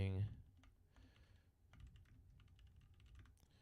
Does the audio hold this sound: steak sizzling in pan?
no